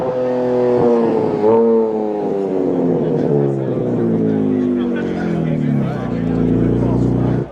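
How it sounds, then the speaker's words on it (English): A Dodge Charger engine revs loudly nearby at a car event, with a deep, droning tone that swells and falls, under continuous crowd chatter. "looks like they started up some revs."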